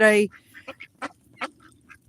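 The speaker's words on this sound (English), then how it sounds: "have their own little quacks that mean different little things" Ducks on a farm give one loud, close quack followed by softer, scattered quacks, while a person speaks briefly.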